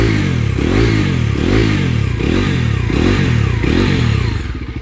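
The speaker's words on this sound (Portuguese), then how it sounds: "Cadê a acelerada da moto?" A Bajaj Dominar 250 motorcycle engine revs repeatedly in rising, falling surges, loud and close, with a rough idle clatter toward the end.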